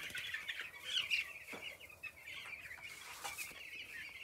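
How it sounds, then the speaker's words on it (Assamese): Young broiler chickens in a poultry farm house with heaters keep up busy overlapping clucks and soft cheeping chirps, a moderately close, continuous flock chatter with no talking. "চাওক মুৰ্গীবিলাক এতিয়া সৰু হৈছে"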